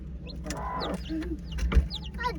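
Close-up, high chirpy peeps from small chicks repeat quickly over low, soft clucking from a hen, with some background rustle.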